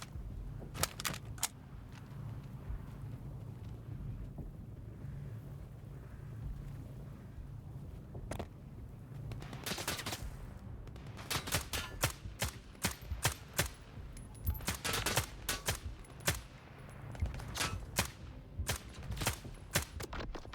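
Gunfire in the S.T.A.L.K.E.R. 2 video game at Malachite, with volleys of sharp shots clustering in the second half over a low rumbling wind-like background, loud and near, with no talk.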